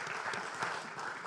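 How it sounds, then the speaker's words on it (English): Applause at a housing policy summit, a steady patter of clapping held for just over a second, fairly faint and without speech over it. "I'm going to clap to that."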